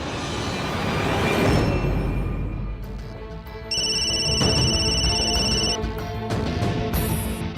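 A phone rings with a repeated electronic ringtone, loud and steady over a dense musical underscore in a Hindi TV drama scene.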